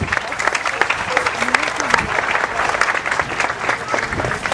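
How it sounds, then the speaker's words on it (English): Audience applause ringing out around a calf show ring for a class of novice showmen, steady dense clapping for several seconds with some crowd voices mixed in. "Let's have a round of applause for this class of novice showmen."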